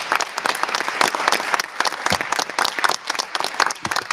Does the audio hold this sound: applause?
yes